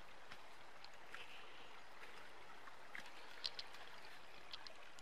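Creek water pours into a roadside ditch held back by a berm after heavy rain washed out the road. It makes a faint, steady broadband rush with a few small splashy ticks and no talk.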